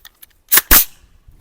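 Two rapid rifle shots crack in quick succession, loud and close, while a gas-blocking charging handle is being tested, with a few faint clicks around them.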